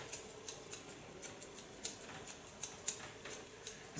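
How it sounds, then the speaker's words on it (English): Hairdressing scissors snipping through hair during a salon cut, a quiet run of quick, crisp snips repeating irregularly at close range with no voices. "dare to do it with this scissors because some people are scared of this scissors"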